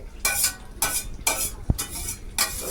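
Oil and gravy from a bhetki fish-bone dish go into a hot pan, heard as a sizzle under rhythmic spoon scrapes and stirring strokes at about two per second, close and without speech.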